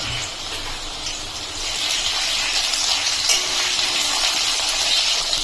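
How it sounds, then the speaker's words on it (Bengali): Chopped tomato goes into a hot pan of lightly fried potatoes, setting off a loud, close, continuous sizzling hiss that swells after the first second and holds steady, with no talking. "এর মধ্যে আমি দিয়ে দিচ্ছি অর্ধেকটা টমেটো কুচি।"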